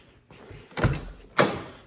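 Two solid thuds of car doors shutting on a 1989 Merkur XR4Ti, the first around the middle and a sharper, louder one shortly after, close by with no talking.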